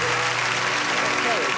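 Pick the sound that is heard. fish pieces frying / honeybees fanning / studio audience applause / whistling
studio audience applause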